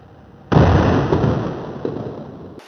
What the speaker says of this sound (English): This marks me firing off a cannon.